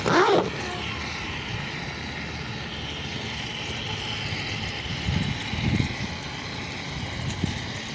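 An MJX Ford Bronco 1/12 scale RC off-road car drives along outdoors, its small electric motor whining steadily with a few brief surges, moderate and close, and no voices.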